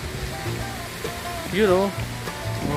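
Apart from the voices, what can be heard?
waterfall, sound of rushing water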